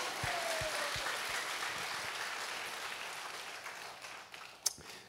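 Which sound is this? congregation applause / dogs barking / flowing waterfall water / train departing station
congregation applause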